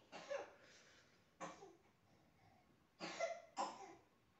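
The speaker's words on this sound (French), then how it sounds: "il y a ma fille qui tousse" A young girl with the tail end of a cold coughs in short bursts, four quiet separate coughs spaced over a few seconds, somewhat distant in an otherwise quiet room.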